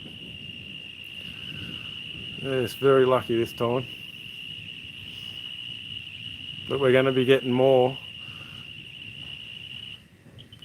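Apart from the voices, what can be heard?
crickets chirping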